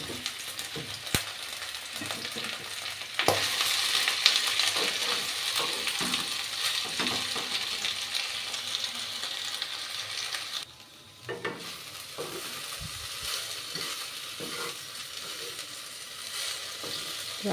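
Thinly sliced okra coated with turmeric and gram flour fries in a pan with a steady close sizzle, with occasional stirring scrapes and clicks and a brief dip midway.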